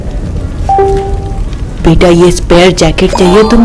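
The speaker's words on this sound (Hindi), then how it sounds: "एंड बारिश चालू हो गई," Steady rain falls throughout as a broadband hiss, with a louder voice speaking over it in the second half.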